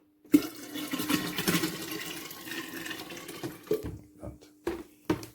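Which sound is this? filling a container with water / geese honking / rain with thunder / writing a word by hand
filling a container with water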